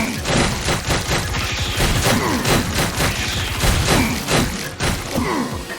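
Continuous rapid gunfire from enemy gunners in the horror game Penny Blood: Hellbound, a dense steady barrage of thudding shots that runs loud and unbroken from start to end.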